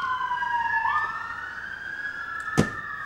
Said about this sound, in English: that was an ambulance as well as a police car going by